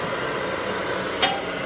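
A handheld hair blow dryer runs steadily at close range during a brush-guided blowout, its even airflow hum filling the whole stretch with a short brighter burst near the end.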